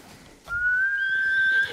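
A horse whinnies in the video game Ghost of Tsushima, set in feudal Japan, giving one drawn-out, high, clear cry that rises slightly and holds steady, heard alone over faint background.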